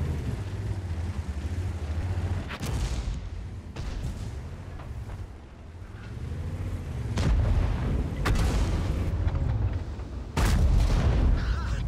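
Tank cannons firing HE shells in the World of Tanks video game, several deep booming shots with low rumbling tails over a continuous engine drone, loud and close.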